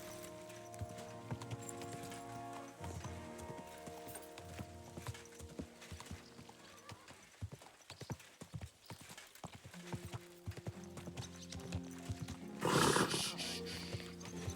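A horse in the video game Kingdom Come: Deliverance II, with steady clip-clop hoofbeats, snorts and a whinny, all fairly quiet and set against soft background music.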